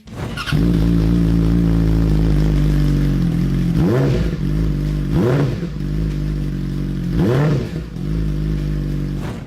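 A sport bike with a loud aftermarket exhaust idles with a raspy tone, then blips its throttle three times, each rev rising and dropping quickly, close up.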